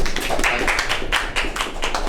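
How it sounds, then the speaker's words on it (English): Applause from an audience at a magic show as a volunteer is called up, a dense run of close hand clapping lasting a couple of seconds, loud and without talk. "Can we get a big round of applause for him?"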